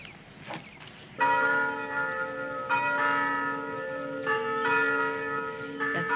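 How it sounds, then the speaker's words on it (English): A mission chapel bell rings out clearly with several resonant strikes, each leaving a long, sustained ringing tone that overlaps the next, heard alone without talk. "That's the bell from the mission chapel."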